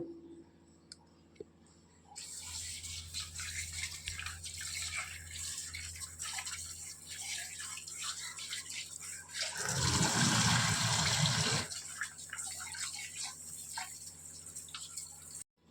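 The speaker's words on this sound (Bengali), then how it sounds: "তার জন্য চিকেনটা ভালো করে ধুয়ে নেব।" Raw chicken pieces, about 700 grams, being washed in water in a home kitchen for curry: a steady, fairly quiet running-water hiss with a louder, fuller rush of splashing in the middle before settling back.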